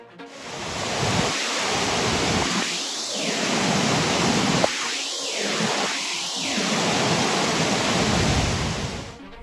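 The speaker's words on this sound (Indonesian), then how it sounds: "Badai tropis mengerikan terjang North Carolina." Tropical storm wind and heavy rain over western North Carolina, a dense continuous roar with several surging gusts swelling and fading, one sharp knock partway through.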